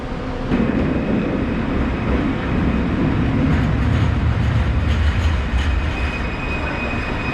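A short LRT train rumbles and hums steadily nearby, with a faint high-pitched whine and occasional rattling as it rolls into the station.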